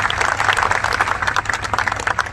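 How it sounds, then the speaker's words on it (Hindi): Audience applause in a university lecture hall, a dense continuous wash of many hands clapping loudly throughout. "एक बार जोरदार ताली होनी चाहिए।"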